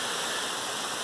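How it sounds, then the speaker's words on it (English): Rain falls outside as a dense, steady hiss that holds evenly through a brief moment, with no voices. "it's raining out"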